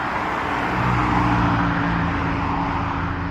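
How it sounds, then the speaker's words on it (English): Cars roll along Ottawa Drive beside a campground on a Saturday morning, a steady, fairly loud roadway hum that swells as a vehicle passes close by. "This is more traffic than there has been all week."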